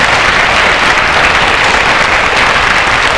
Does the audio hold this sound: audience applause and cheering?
yes